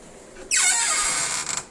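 A chalet kitchen cupboard door in need of oil gives a drawn-out creaking squeak as it swings, close and fairly loud, with a few rattling clicks at the end.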